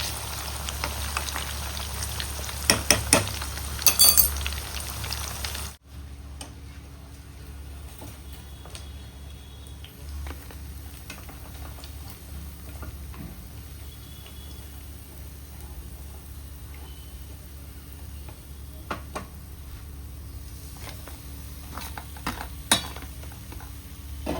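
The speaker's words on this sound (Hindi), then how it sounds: "भून में प्याज टमाटर, वही तली के प्याज अच्छा भूनेगा" Onions and tomatoes fry in a pan, giving a steady soft sizzle with scattered crackles and spatters throughout, louder and busier in the first few seconds before settling into a quieter, continuous frying sound.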